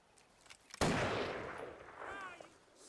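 A single sharp, loud gunshot cracks out in Grand Theft Auto V after a quiet lead-in, then rings and fades, followed by a voice.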